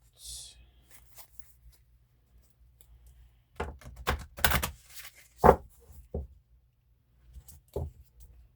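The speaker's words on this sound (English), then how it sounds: "Just need a couple good shuffles, Spirit" Soft papery riffling and snapping of an oracle card deck being shuffled in short bursts, close by, with quiet pauses between.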